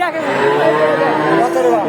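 A bull at a busy livestock market in Sirajganj gives a loud, close, drawn-out moo that lasts the whole moment, with faint crowd murmur behind it.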